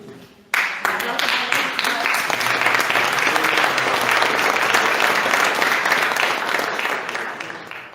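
An audience at an international solidarity gathering in Seville breaks into sudden applause for Elena, many hands clapping loudly and continuously for several seconds, with voices mixed in, before fading slightly at the end.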